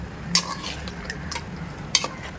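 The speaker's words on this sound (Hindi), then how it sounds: "अब इसके अंदर मैंने डाल दी मेयोनीज़ डाल के हम इसको अच्छे से मिक्स करेंगे" Spoon stirring mayonnaise into fried masala for chicken biryani in a pan, with soft scraping and two sharper clinks against the pan at a faint sizzle.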